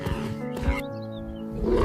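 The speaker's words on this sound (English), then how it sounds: "A lion leaps from tall grass," A lion roars from tall grass in a wild prehistoric setting, a rough, low, throaty call with a tonal growl that swells and then trails off over a couple of seconds against a dense background.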